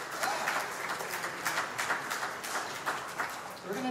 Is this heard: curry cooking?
no